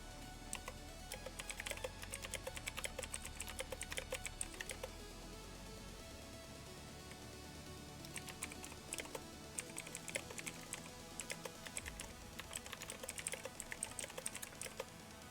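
Steady clacking keystrokes from a computer keyboard, a dense rapid patter of close clicks that pauses briefly midway before resuming, over a low background hum.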